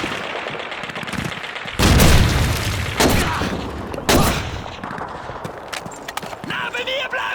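Grenade blasts and gunfire ring out in a Call of Duty 2 battle, several loud, sharp bangs with rattling shots between them, while shouted game voices call out over the fighting.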